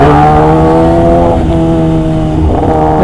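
Big-bike motorcycle engine revving, a loud, sustained close-up drone with a steady pitch that dips and swells slightly, with no talk over it.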